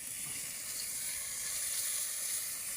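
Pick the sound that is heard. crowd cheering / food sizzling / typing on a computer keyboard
food sizzling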